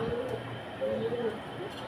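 A pair of Mukhi pigeons, male and female, coo softly at a pigeon farm, with two or three short, low, rounded calls close by against faint background noise.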